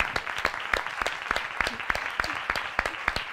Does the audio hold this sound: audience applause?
yes